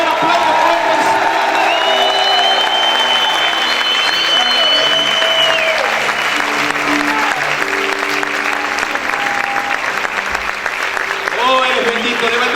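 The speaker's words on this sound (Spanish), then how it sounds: "A ver, aplaude fuerte al Señor." A church congregation claps hard and continuously with scattered cheers and whoops, while a voice speaks and sings over the loud applause throughout.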